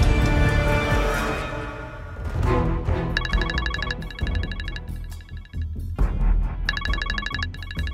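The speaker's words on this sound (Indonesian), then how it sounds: "Aduh, Bos Bilin telepon nih" A phone rings in a dramatic TV scene, with repeated electronic ringtone bursts in short patterned pulses over a background music bed, fairly loud and close.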